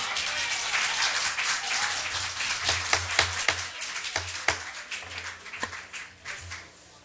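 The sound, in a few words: applause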